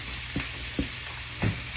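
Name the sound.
onion sauteing in butter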